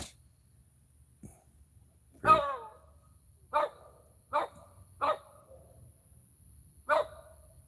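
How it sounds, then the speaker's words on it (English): A small dog barks five times in separate sharp yips in a garden, spaced a second or so apart, over quiet background hum. "Dog's gonna bark at everything."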